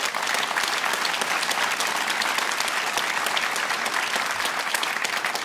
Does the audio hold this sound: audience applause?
yes